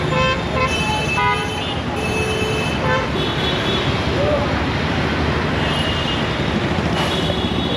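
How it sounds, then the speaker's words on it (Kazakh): Dense traffic jam in Delhi, with a steady roar of engines and road noise and repeated car horns honking near and far, some in quick bursts, fairly loud throughout. "Мына жақта да үлкен кептеліс болып жатыр."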